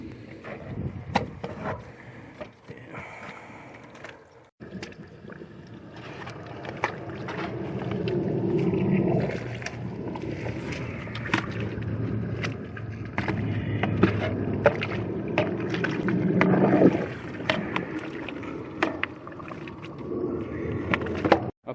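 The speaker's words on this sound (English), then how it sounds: "we got the drain bladder running through this pipe here where it's broke, and we're trying to clear any mud out" A drain bladder in a broken underground PVC septic sewer pipe pushes water and mud through, producing a continuous gurgling, sloshing rush with sharp knocks and surges, close and fairly loud, with no speech.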